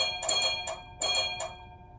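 Bell of an LGB Weimar trolley model played through a Zimo sound decoder: two quick double dings, bright and metallic, a short pause between pairs, close and fairly clear over a faint background hum.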